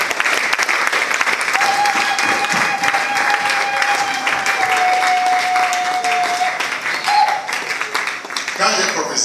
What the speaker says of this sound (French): Clap for God.